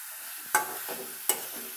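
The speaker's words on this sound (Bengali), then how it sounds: "হালকা হালকাভাবে মাছটাকে আমি মশলার সাথে ভেজে নিয়েছি।" Fish fries gently with spices in a pan, a steady soft sizzle broken by two sharp clinks of a utensil against the pan as it is stirred; no one speaks.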